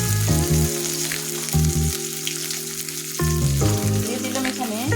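Two torn dry red chillies sizzle and crackle loudly in hot oil, a dense steady frying hiss with stirring sounds and a background hum that steps in and out.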